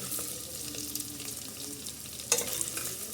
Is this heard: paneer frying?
yes